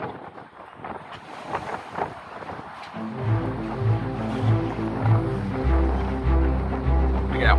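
Strong, cold wind gusting over boats moored at a dock in a small bay with whitecaps, with a steady rumbling roar and lapping water, plus a rhythmic creaking or thumping that grows louder toward the end.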